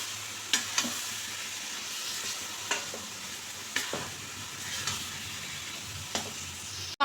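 Coconut and sugar paste stirred in a pan for narkel sandesh: a soft continuous sizzle with repeated scraping and clinking strokes of a spoon against the pan at an uneven rhythm, close and quiet, no speech.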